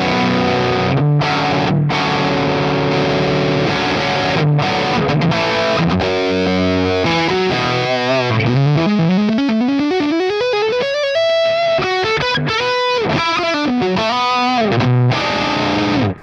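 Stratocaster-style electric guitar through a Mesa Boogie Road King amp in raw mode with heavy gain, loud saturated chords and stabs followed by fast sweeping lead runs that rise and fall, played alone.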